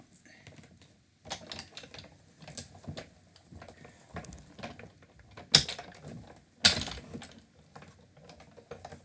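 Small dies cutting cardstock for a shabby chic Christmas card, heard as scattered soft clicks and mechanical rustling with two sharper, louder snaps near the end, close by and with no talking.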